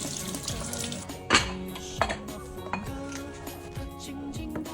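A kitchen tap runs steadily over a block of firm tofu being rinsed at a sink, with a few sharp clinks and knocks against the basin standing out above the continuous water noise.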